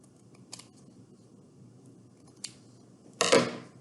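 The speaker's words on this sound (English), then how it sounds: "I'm actually just going to cut a small square." Scissors snip a small square of cross stitch fabric: a couple of faint clicks, then one louder, sharp crunching cut at the end against a quiet room.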